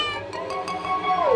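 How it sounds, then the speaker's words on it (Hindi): A cat meows in a warehouse setting, a short single call with a rising then falling tone over background music, fairly close and clear. "एक गोदाम में एक बिल्ली रहती थी।"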